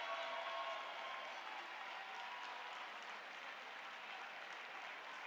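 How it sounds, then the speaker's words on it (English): Spectators at the CRASH-B indoor rowing sprints cheer and applaud: a distant, continuous roar of crowd clapping and shouting, steady and faint, with no distinct voices standing out. "with just incredible support from the crowd as they come through this very last stretch"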